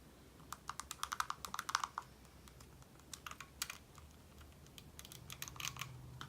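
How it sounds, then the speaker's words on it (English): Clicky buttons on a rebuilt Nintendo Switch Joy-Con with a BASSTOP replacement housing are pressed in quick irregular bursts of small, light plastic clicks, close and fairly quiet. "All buttons are clicky."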